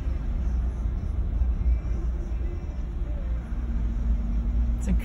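A car drives slowly through a quaint residential neighborhood of houses, its steady low engine and road rumble continuous and close, filling the background throughout.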